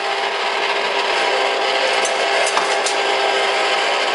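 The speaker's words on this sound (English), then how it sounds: "So I'm gonna give this one last stir with the whisk and then get the spatula, because I don't want to leave any in the bottom of the pot." Whisk and spatula stirring and scraping chocolate ganache in a pot: a dense, continuous close scraping rasp with faint clicks against the metal, no talking.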